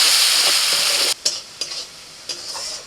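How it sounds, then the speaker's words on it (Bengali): Ground spices such as turmeric, red chilli, coriander and cumin sizzle loudly in a pan as they are stirred and fried, a steady bright hiss broken by several brief scraping strokes of the spoon. "মশলা ভালো করে কষিয়ে নিয়েছি"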